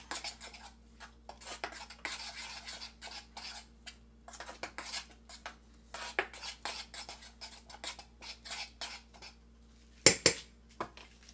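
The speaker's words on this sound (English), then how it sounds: "1 teaspoon of turmeric, and you just have to mix it well" Moong dal batter being stirred with turmeric in a bowl, spoon scraping and clinking against the sides in short uneven bursts, close and fairly quiet, one sharper knock near the end.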